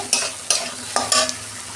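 Tomato frying in a pan, stirred now and then with a few scraping strokes over a steady low sizzle, no voices.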